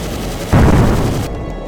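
Cannon fire from a jet fighter in a Korean War dogfight between MiGs and Sabres, one loud, rapid burst that erupts suddenly, sustains briefly, then tails off.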